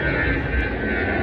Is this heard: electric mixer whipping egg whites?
no